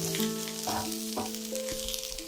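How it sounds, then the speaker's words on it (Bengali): Masala for a chicken lasagna sizzles and fries in a pan, a soft, steady crackle with faint tonal hums underneath and no talking. "এবার এটাকে ভালো করে কষিয়ে নিতে হবে।"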